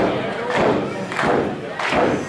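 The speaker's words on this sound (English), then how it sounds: "Crowd rallying behind Blade and Bandido." Wrestling crowd at an independent show cheering and rallying behind wrestlers Blade and Bandido, three swelling surges of shouts over a steady crowd roar with thuds from the ring.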